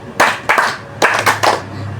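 Hands clap five times in an ice-breaking clap game, two claps then a short pause and three more, loud and close in an otherwise quiet room.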